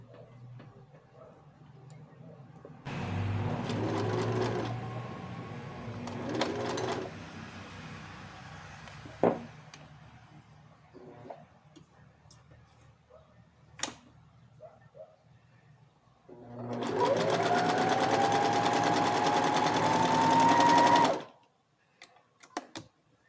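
A faulty home sewing machine stitches a shoulder seam adjustment in two steady, close bursts of whirring, each lasting several seconds, with quiet handling noises between them.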